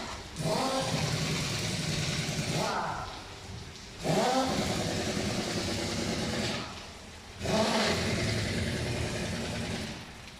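An older Ford Ranger pickup's four-cylinder engine running and revving in three repeated surges, each rising then dropping off, with a broad mechanical roar heard close by.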